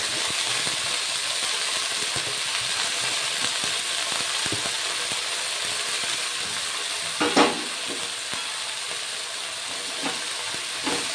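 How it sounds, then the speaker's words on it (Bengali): Fenugreek greens are stir-fried in a pan over medium-high flame with garlic and green chili, a steady hiss of frying broken by scattered stirring scrapes and one louder knock. "ভালো করে নাড়াচাড়া করে মিশিয়ে নেব ফোড়নের সঙ্গে শাকগুলো।"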